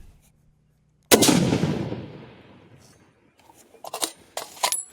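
A 28 Nosler rifle fires a single 190 grain Berger hybrid round at a 1,000 yard range, a loud sharp report with a long decaying echo, followed by faint clicks and handling noises.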